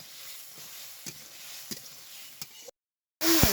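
Potatoes sautéing with turmeric and coriander powder in a pan, a soft steady sizzle with scattered scraping stirs, a short silence, then a louder burst of sizzling.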